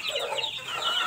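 Chickens clucking on a dairy farm, a close, busy overlapping chorus of clucks with no voices.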